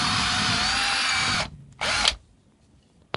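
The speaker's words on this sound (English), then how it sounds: "where I'm actually drilling straight up through the roof" A power drill with a small bit whines steadily for over a second while drilling up through a garage roof, stops, then gives one short final burst before quiet.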